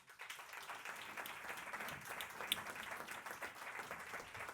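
Faint, steady applause from a studio audience at a French pitch competition show, a continuous wash of clapping that stays at an even level throughout, somewhat distant and soft.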